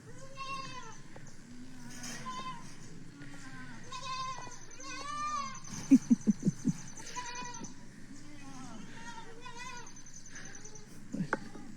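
Goats bleat repeatedly at close range, a string of wavering cries overlapping one another, with a quick burst of clattering knocks partway through and a person talking faintly underneath.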